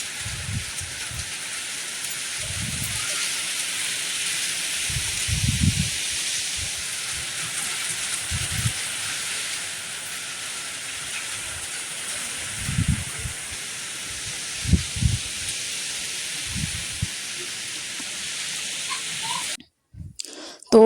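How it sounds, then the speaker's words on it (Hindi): Heavy rain pours steadily during a sudden violent storm, a dense constant hiss throughout, with occasional low thumps and a faint voice or two, cutting out abruptly near the end. "अभी मैं आपको बारिश दिखाती हूँ।"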